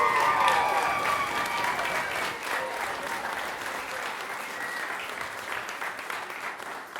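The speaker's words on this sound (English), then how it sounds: "Let's give all these girls and coaches a round of applause." Sustained applause from an audience at a 12U youth softball ceremony for the players and coaches, dense steady clapping that eases slightly toward the end.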